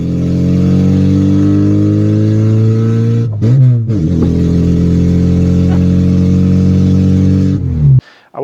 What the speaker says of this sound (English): The crackling sound only when it comes naturally, but I really like that sound